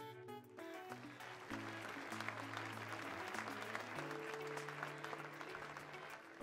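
A crowd applauds with steady, dense clapping, while sustained musical tones play underneath throughout.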